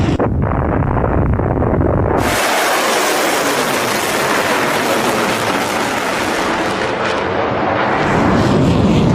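Missile and drone strikes in an Iran–US conflict, a continuous roaring barrage of blasts and rumbling explosions, loud and dense throughout with no pauses.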